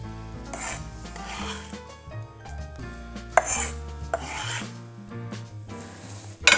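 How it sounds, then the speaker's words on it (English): A spoon stirs bacon into a thick BLT dip mix in a bowl, making close, repeated scraping and rasping strokes with a few sharper knocks against the bowl. "let's stir it up"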